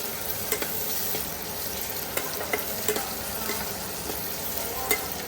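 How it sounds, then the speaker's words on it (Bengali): Onion frying in a pan for a spicy Bengali dried-fish (lotte shutki) bhuna with naga chili, a steady close sizzle with occasional scraping stirs and soft ticks, no talking. "পেঁয়াজটা একটু বনে নিচ্ছি এখানে দেখুন"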